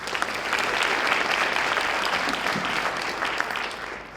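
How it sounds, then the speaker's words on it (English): A school jazz concert audience claps in a thick, continuous wash of applause, loud and even from start to finish, easing off slightly near the end. "How about a round of applause?"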